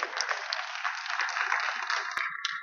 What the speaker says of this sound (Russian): На аплодисменты поддерживают Олега зрители сейчас.